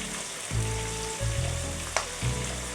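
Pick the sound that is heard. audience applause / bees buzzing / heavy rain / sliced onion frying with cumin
sliced onion frying with cumin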